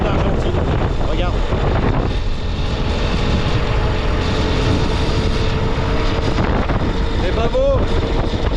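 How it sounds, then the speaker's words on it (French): Strong, constant wind rushes over the microphone while riding a motorcycle with a sidecar along a southern road in Chile beside the Andes, with engine drone underneath and brief snatches of a voice. "Il y a un tout petit peu de vent, mais alors c'est vraiment pas gênant."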